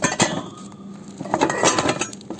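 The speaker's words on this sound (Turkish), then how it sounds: "Burada Chef's Pro markasının karnıyarık tenceresi var." A Chef's Pro 26 cm shallow cooking pot with a granite-effect finish and handles is handled and shifted about, giving a series of close metallic clinks and knocks at an irregular pace.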